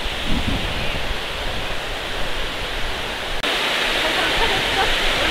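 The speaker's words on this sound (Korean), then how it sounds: "물소리도 좋고," Steady, full rushing of a mountain stream in Piagol Valley, a constant broadband wash of flowing water with no pauses.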